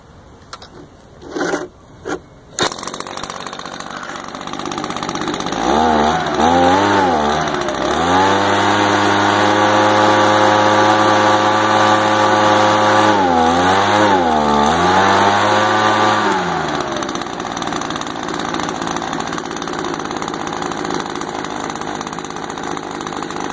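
An Echo ES 210 leaf blower, a small two-stroke engine rescued from a scrap pile, starts after a few pull-cord tugs and then runs loud and close with a buzzing whine that rises and falls with throttle before cutting off.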